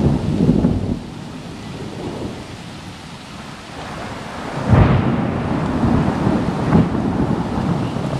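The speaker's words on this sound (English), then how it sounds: "And there's the thunder." Loud thunder booms and rumbles through a heavy downpour, with a strong crack partway through and another lower roll after, all over a continuous close roar of rain and a little wind buffeting.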